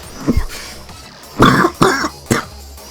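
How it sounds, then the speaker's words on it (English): Several harsh, close coughs in quick bursts, starting with a throaty clear and then three rough hacks spaced out, with no talking. "I've coughed so much in this video"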